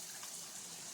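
Running water from a garden pond waterfall: a faint, steady splashing rush with a hissy, continuous texture and no other sounds during a brief moment.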